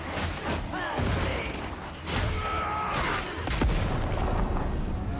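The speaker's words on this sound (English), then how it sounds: "A grenade!" Grenade explosions and combat in the video game Darktide, a series of heavy booms and crashes with gunfire, dense and loud, with voices shouting in the mix.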